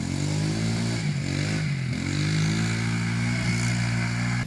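A Yamaha Breeze ATV is ridden around in circles nearby, its small engine droning steadily with slight pitch rises and dips as it turns, loud and continuous with no speech.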